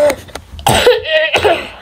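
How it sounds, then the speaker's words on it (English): A single person coughs, a short rough burst followed by a longer throaty, harsh sound, close and fairly loud with a brief pause between. "It's just a cough."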